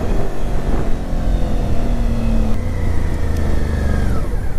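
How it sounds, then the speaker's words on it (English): A Suzuki V-Strom motorcycle's exhaust rumbles loudly and continuously, with the engine pitch rising and shifting as it runs, recorded up close with some wind noise. "I'll let you hear the exhaust."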